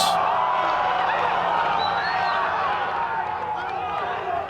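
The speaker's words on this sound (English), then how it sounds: "That got the crowd on their feet." Crowd noise at a college lacrosse game, Arizona Wildcats away at GCU, rises into sustained cheering and whoops that hold steady throughout, loud and dense, with voices mixed into the din.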